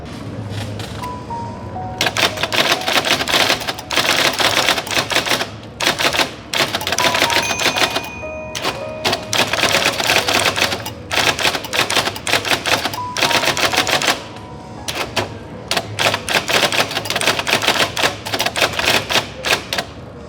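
A vintage typewriter at a computer museum is struck in rapid bursts of loud, close mechanical clacks with brief pauses and a carriage bell or ding in between.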